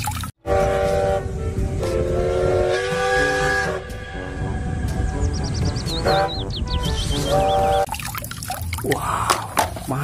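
A toy Thomas train plays electronic whistle toots and chugging rail sounds, loud and close, in a burst of repeated whistle tones over a busy mechanical clatter.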